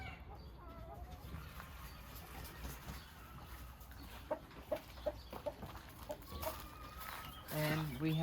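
Brahma hens and pheasants cluck in a pen, with soft scattered clucks building to louder calls near the end, heard faintly under low background noise.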